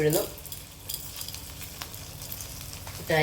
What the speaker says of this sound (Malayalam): ഇതിനകത്ത് കടുക് പൊട്ടിയിട്ടുണ്ട്